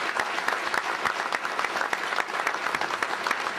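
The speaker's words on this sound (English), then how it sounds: "Give him a round of applause." Conference audience applauds a keynote mention, a dense, even burst of many hands clapping at moderate volume throughout, with no talking.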